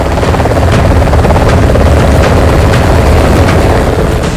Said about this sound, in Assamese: আপাচি হেলিকপ্টাৰৰ শক্তি অতুলনীয়।